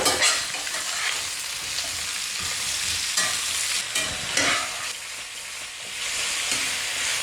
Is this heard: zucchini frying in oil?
yes